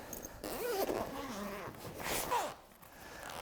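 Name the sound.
zippers on a Nanlite PavoTube II light case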